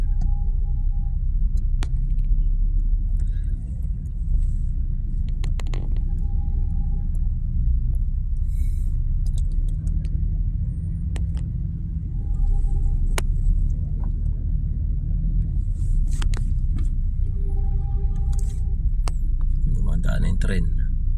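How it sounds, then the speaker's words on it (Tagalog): Car traffic on the Skyway, a continuous low road rumble of passing vehicles with occasional faint higher tones, steady in level throughout. "So ayan guys, Skyway traffic."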